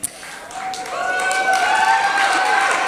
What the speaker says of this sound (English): I'm really enjoying all the applause today.